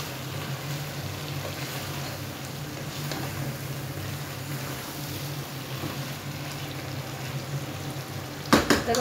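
Spices for a chicken and radish curry sizzle and fry steadily in a pan while being stirred and mixed, a close, continuous crackle with a brief clatter near the end and no one talking.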